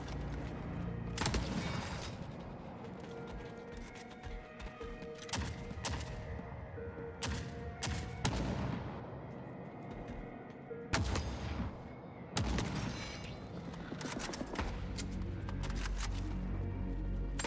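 Video game gunfire from a .50 cal rifle and an AK, with a rapid stream of loud crackling shots and several heavier bursts standing out over a busy, continuous game mix.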